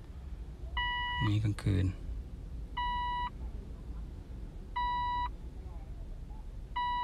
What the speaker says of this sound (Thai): มันจะวอร์มอัพ10วินะครับมีเสียงดังแล้วก็ไฟกระพริบนะ